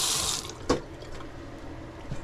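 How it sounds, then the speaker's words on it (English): Tap water splashes over hands being rinsed at a kitchen sink while cooking beef chow fun, a steady broadband rush for about half a second that drops off into faint sink and kitchen sounds. "Rinse my hands."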